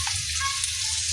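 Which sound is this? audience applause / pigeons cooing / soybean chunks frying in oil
soybean chunks frying in oil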